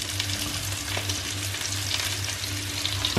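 Lemon sole frying in a pan, about to be joined by mushrooms, with a continuous loud sizzle and light stirring noises close by and no talking.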